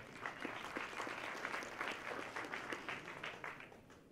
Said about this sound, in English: just give yourselves a clap for that exact stat